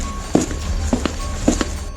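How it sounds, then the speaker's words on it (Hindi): Footsteps of someone walking on a railway track at night, three or four distinct steps spaced evenly about half a second apart, moderately near over a low steady background hum, with no talking. "मुझे फिर से ट्रैक पर किसी के चलने की आवाज आई"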